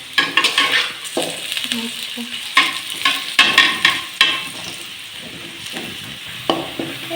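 Onions sizzle fast in a pan for biryani while a utensil stirs and clinks against the metal in irregular bursts.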